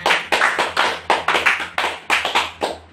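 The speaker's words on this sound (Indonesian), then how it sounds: "Sekarang kita tepuk tangan untuk kita semua." A high school class claps hands together at the end of a lesson, several bursts of brisk, fairly loud claps in uneven groups over a low steady hum, with no talking.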